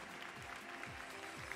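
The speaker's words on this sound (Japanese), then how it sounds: "大きな拍手をお願いします。" An audience at a Miss Niigata beauty pageant awards ceremony applauds with faint, distant, continuous clapping.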